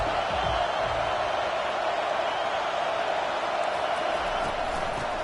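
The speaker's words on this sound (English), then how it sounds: "3rd down, and this crowd will blow out a vocal cord to help this defense." Football stadium crowd roaring on third down to back the home defense, a dense, steady wall of distant cheering and noise sustained throughout with no clear peaks.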